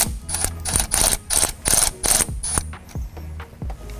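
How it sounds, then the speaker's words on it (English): Ratcheting clicks from tightening a nut over a battery terminal ring while installing a 120w CREE LED light bar on a Bronco Sport, several quick bursts of close, crisp ratchet clatter with short pauses, no talking. "You want to make sure the terminal ring slides under that nut, so when you tighten it back in place"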